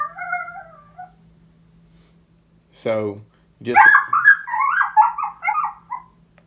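A high, wavering female coyote whimpering call with a quick sharp yelp, imitated by a human voice for coyote hunting, following a few spoken words.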